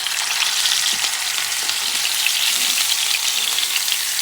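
A veal rib chop of nearly a pound sears in a hot pan, giving a loud, steady, dense sizzle that continues without a break.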